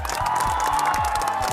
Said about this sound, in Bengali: সবাই সিমনের জন্য জোরে একটা তালি হবে